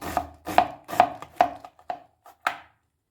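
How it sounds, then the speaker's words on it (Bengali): Knife finely shredding washed cabbage on a board, a run of about eight crisp, evenly spaced chops close by that slow toward the end, with no voices. "একদম কুচি কুচি করে আমি বাঁধাকপিটা কেটে নিচ্ছি"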